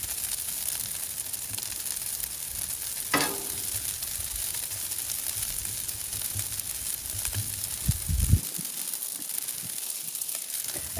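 Butter and pork fried rice sizzle steadily on a Blackstone griddle outdoors in cold winter weather, a continuous close frying hiss with a scrape near three seconds and a few bumps before the low end drops away.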